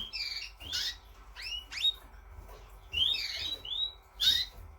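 Red Isabel mosaic canary in a breeding room giving bright chirps and whistled rising notes in short bursts with pauses, close and clear over faint background hum.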